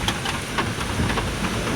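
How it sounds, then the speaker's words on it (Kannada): Steady heavy rain on Bisile Ghat, a dense, continuous wash of falling water with a low rumble underneath, close and fairly loud throughout, with no voices. "ಮಳೆನೇ ಬಿಡ್ತಾಯಿಲ್ಲ ಇಲ್ಲಿ, ಮಳೆ ಅಂದರೆ ಮಳೆ"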